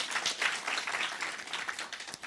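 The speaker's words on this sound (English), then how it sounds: "Guys, another round of applause for Mohale." Audience applause for a speaker named Mohale at an open day, a dense, steady wash of many hands clapping together for a couple of seconds at moderate level.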